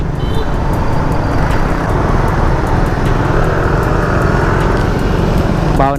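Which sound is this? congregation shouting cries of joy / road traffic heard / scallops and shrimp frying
road traffic heard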